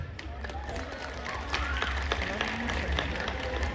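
An audience at a live show at the Hyderabad Numaish applauds, a steady bed of clapping and crowd noise heard from a distance, with voices mixed in.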